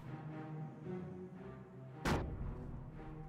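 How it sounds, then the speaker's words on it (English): Loud single blast from an explosion in the World War II strategy game Company of Heroes, a sharp broadband boom that rises out of a dense, continuous battlefield rumble and then fades back into it. "There's just a lot of explosion there."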